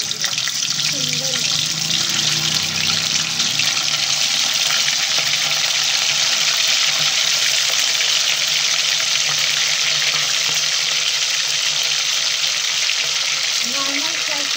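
Chicken pieces fry in hot oil with a loud, steady, dense sizzle that hisses without a break; a voice talks faintly underneath.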